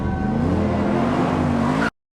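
Noble sports car driving in a film car chase in London, a steady loud engine drone with rising revs and road noise, continuous for about two seconds before cutting off abruptly.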